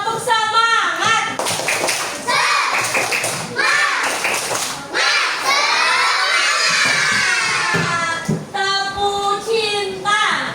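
Schoolchildren in a classroom clap in rhythm and shout a class cheer together, a loud, lively burst of many young voices with bursts of clapping throughout, while a teacher's voice leads.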